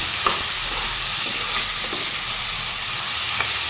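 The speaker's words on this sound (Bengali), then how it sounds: "লাল লাল করে ভেজে নিচ্ছি" Boiled soya chunks fry and are stirred in a pan with cumin, giving a steady loud sizzle and hiss throughout with faint scraping, no voices.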